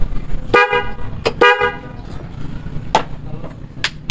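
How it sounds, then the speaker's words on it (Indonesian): A waterproof Denso horn fitted to a Honda Beat Street motorcycle honks in short bursts: two clear blasts, a pause, then two briefer toots, close and loud over street noise. "Setelah diganti dengan klakson Denso yang waterproof"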